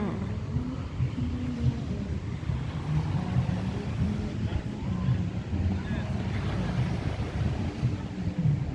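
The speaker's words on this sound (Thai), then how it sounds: "ฟังเสียงคลื่นทะเล" Steady roar of sea waves washing on the shore at Jomtien Beach, mixed with strong wind buffeting the microphone, continuous throughout with no pauses.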